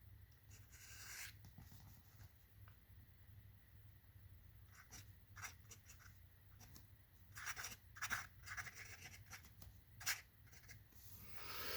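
Vintage flexible-nib fountain pen scratching across paper in quiet, close strokes, with short irregular bursts of nib scraping and rubbing and no talking.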